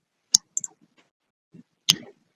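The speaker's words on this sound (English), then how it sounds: "So you'll continue clicking on adding an action." Crisp computer mouse clicks during software setup work, a sharp click, a quick pair of lighter clicks, then another firm click after a short pause; close and dry with no talking.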